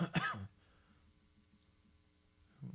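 A single short cough near the start, followed by quiet hum and a faint throat sound at the end.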